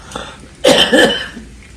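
A single burst of coughing, two close hacking coughs near the mic, preceded by a faint breath and trailing into quiet.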